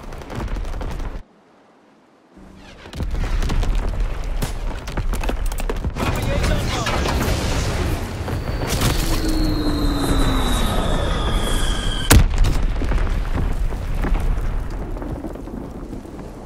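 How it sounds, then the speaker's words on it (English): Enemy artillery pounds in from afar in a video game, a dense run of booming impacts and rumble after a short silence, with one sharp crack near the end. "Incoming enemy artillery."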